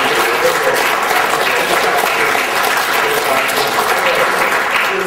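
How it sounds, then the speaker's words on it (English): An audience at a university lecture event applauds a college dean, a sustained, even wash of clapping that carries on for several seconds without voices. "Let's applaud her"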